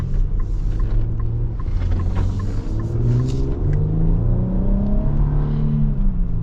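2025 Infiniti QX80 with a smooth powertrain and nine-speed automatic accelerating hard, its engine droning loud and close, pitch climbing steadily through the gears with brief dips at the shifts.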